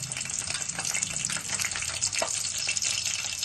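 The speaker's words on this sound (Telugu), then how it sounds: "ఆయిల్ అయితే వేడైంది మనం ముందుగా కట్ చేసి పెట్టుకున్న పచ్చిమిరపకాయలు వేసుకుందాం" Chopped green chillies hit hot oil in a pan, giving a loud, steady hiss and crackle that holds evenly throughout without any talk.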